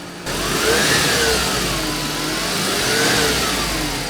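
A nearby car engine revs up and eases down during a starter and alternator check, rising and falling in pitch over a steady loud rumble.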